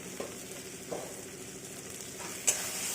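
A spoon stirs turmeric, coriander powder and garam masala into a pan for a Bengali yogurt fish dish, a soft continuous scraping and sizzle with a few light clinks, quiet and close.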